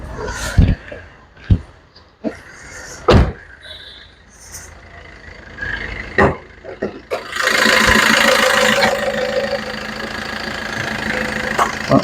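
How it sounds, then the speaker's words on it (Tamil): A Maruti S-Cross car is handled with scattered loud clicks and thumps before its engine starts, then settles into a steady idle rumble, close by. "அது இன்ஜின் ஸ்டார்ட் பண்ணி இன்ஜின் ரூமு இன்ஜின் கண்டிஷனில் பார்த்துடலாங்க."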